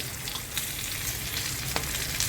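Chillies stir-fried in a pan with spice masala, a constant close sizzle of oil with light scraping touches as they are turned.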